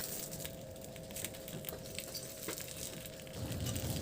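Eggplant sizzling on a hot sizzling plate, a steady crackling hiss with light popping and spattering that swells slightly toward the end, heard alone without talk.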